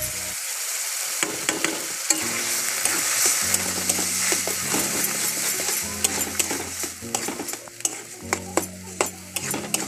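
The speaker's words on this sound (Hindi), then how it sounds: "उबला हुआ आलू, जो मसाला वसाला डाल के रखे थे उसको अभी कढ़ाई में छोड़ दिए" Spiced boiled potatoes fry in a kadhai for chaat with a loud, steady sizzle, while a utensil stirs and scrapes the pan in repeated clinks and scrapes close by.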